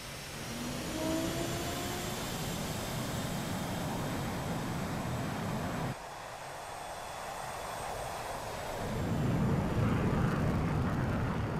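F/A-18C Hornet jet launching from an aircraft carrier in DCS, a loud sustained roar of jet engines with a steady broadband rush that shifts and swells toward the end, no voices present.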